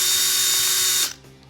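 A power drill spins with a loud, steady high-pitched whir for about a second, freeing rivet heads jammed on its bit, then cuts off abruptly and leaves a faint low hum.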